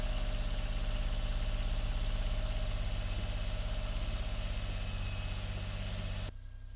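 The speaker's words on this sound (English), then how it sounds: "We are coming down into low revs as she warms up." The engine of a 1990 Honda Acty 4x4 Street idles steadily and close by while warming up, a low even throb that holds for several seconds before cutting off abruptly near the end.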